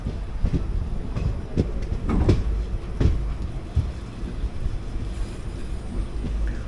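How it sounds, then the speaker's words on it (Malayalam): A Palakkad–Ernakulam MEMU train rumbles past, a loud continuous roar with rhythmic wheel clatter and wind buffeting, heard close by. "പാലക്കാട് എറണാകുളം മെമു ആണ് പോയത്."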